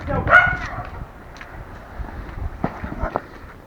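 Dogs bark near orienteering trainees on a hillside at Gölyazı, one loud bark followed by fainter, scattered yips and rustling outdoors.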